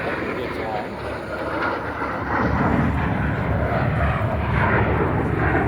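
An Alpha Jet aircraft flying a high-G maneuver at an air show: a continuous loud jet engine roar with broadband rushing noise that intensifies partway through, with a voice talking over it.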